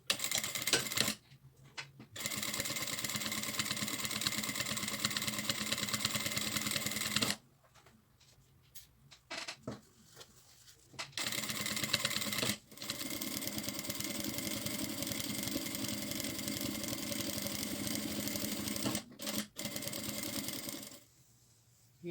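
A sewing machine stitches lines on a fabric pencil case in several long bursts of steady, fast mechanical whirring, separated by short quiet pauses, close and alone.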